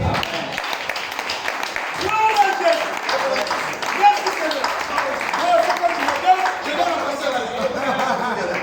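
A church congregation applauds and cheers in praise during a French-language service, a steady wash of clapping and crowd voices through the whole stretch, with a few louder peaks.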